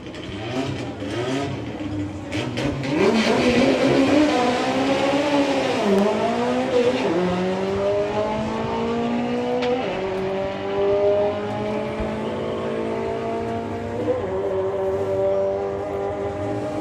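A 4-cylinder drag race car makes a full run at a drag strip, its engine revving hard through a rising, shifting howl with brief tire squeal, loud at first and then fading as it pulls away.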